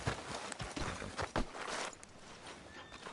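A horse walks in Red Dead Redemption 2, a series of distinct hoof clops on ground at a steady walking rhythm, quiet and fairly close, with no talk.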